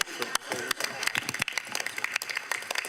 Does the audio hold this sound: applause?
yes